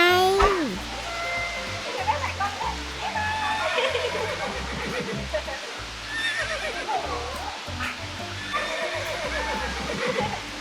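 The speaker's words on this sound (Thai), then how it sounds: "และแล้วก็ได้เล่นม้าหมุนสมใจ" A carousel ride at a dessert-themed cafe village in Chonburi plays repeated horse neighs and whinnies, with clip-clop beats and rushing background noise. Voices talk over it throughout.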